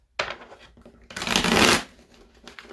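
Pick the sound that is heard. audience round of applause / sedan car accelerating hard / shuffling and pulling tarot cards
shuffling and pulling tarot cards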